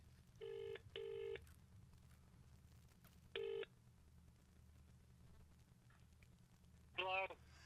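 Touch-tone telephone dialing a new number: three short, loud keypad tones in quick succession, a pause, then a warbling electronic tone near the end, over a low steady background hum.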